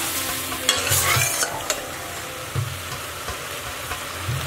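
Lamb tripe frying in oil over low heat, a steady soft sizzle broken by a few brief scraping stirs of a spoon in the pan.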